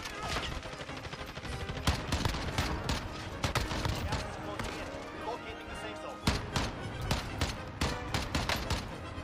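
Rapid bursts of shooter video game gunfire, dense automatic fire and repeated shot clusters throughout, loud and close, with a player's voice talking over the action.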